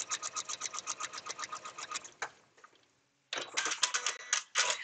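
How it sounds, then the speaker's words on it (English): Sewing machine stitching through the seam allowance of a foundation paper pieced quilt block: a fast, even run of needle strokes, a pause, then another burst of stitching, close and clear with no talk. "I'm going to sew all the way through the seam allowance again"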